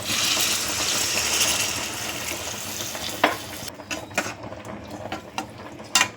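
Water hits a hot frying pan of brinjal thokku with a loud hiss and sizzle that gradually dies down into softer crackling and a few clinks.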